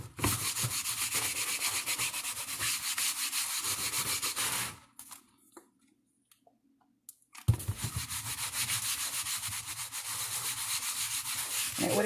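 A liquid product is rubbed briskly by hand over a dated ceiling fan part, close scrubbing strokes in a fast steady rhythm, broken by a short pause before the rubbing resumes.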